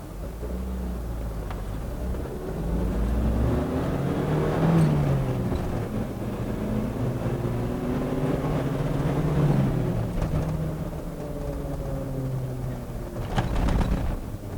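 A 1994 Suzuki Vitara short-wheelbase engine revs and accelerates, the droning pitch climbing in repeated sweeps between gear changes, loud and close from inside the vehicle.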